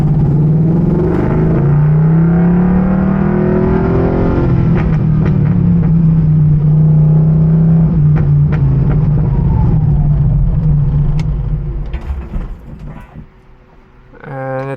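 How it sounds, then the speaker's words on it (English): A muscle car with an automatic transmission warms up, its engine holding a steady, loud low rumble close by that settles and drops away near the end, with a brief mechanical clunk. "So I'm going to warm the car up first before we do anything foolish."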